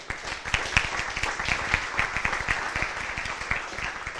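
A conference audience at KDE Akademy 2019 gives a round of applause, many hands clapping in a thick, continuous patter with some sharper individual claps standing out, holding steady throughout.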